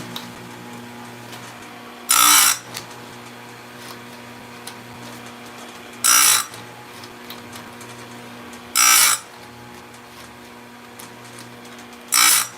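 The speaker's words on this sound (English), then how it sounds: "Sort of relaxing sharpening chains, doesn't require a whole lot of thought. I like doing these by hand like this" A chainsaw chain is sharpened on a bench grinder, with four short, bright grinding bursts spaced a few seconds apart over a low steady motor hum, no talking.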